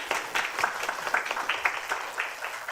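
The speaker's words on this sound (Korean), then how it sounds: "다시 한번 박수 쳐주시면 좋을" Light applause from a small audience at a youth human rights forum, a thin patter of individual claps heard fairly close.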